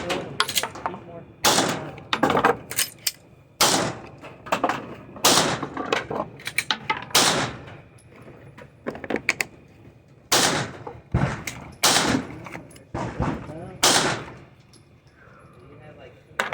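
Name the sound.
pistol gunshots, CZ P10F with Holosun 407K at the range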